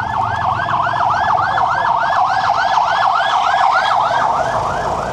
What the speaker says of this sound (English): second ambulance has just passed.